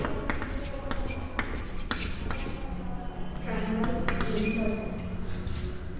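Pen or pencil scratches across paper as an answer is written out by hand during a maths lesson, a series of short scribbling strokes under steady background noise.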